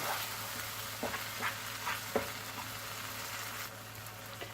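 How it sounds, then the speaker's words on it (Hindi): A spoon keeps stirring semolina as it roasts in butter in a pan for halwa, scraping in soft, repeated strokes over a steady sizzle that stays close and fairly quiet, with no voices. "इसको मुसलसल आप चम्मच चलाएंगे।"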